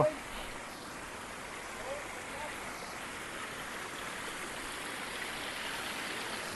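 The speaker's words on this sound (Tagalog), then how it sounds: "Nakapagtataka kung bakit may bumubugwal na tubig galing sa ilalim" Steady rushing, gurgling hot spring water wells and churns up from the volcanic ground, close and continuous.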